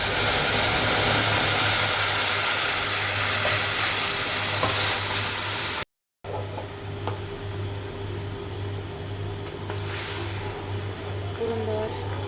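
Lentils go into hot oil with broken dry chilli and whole cumin, giving a loud, hissing sizzle that drops to a quieter, steady bubbling after a brief cut.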